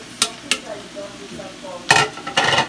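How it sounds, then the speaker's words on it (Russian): Mushrooms fry in a pan with scrapes and clinks of a utensil, a few sharp strokes at first and then a denser burst of stirring and sizzle near the end. "И грибы обжариваем, ну, тоже совсем недолго."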